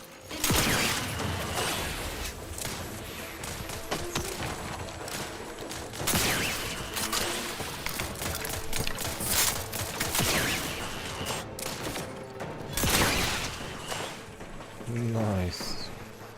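Repeated shotgun blasts and gunfire from a sci-fi shooter game, The Outer Worlds 2, loud and dense across the stretch, mixed with whooshes, mechanical clatter and game effects, with a player talking over parts of it.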